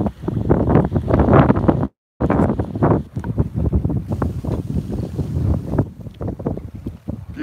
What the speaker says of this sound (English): a little bit of wind picking up